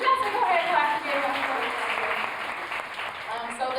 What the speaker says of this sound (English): So you guys can go ahead and clap together.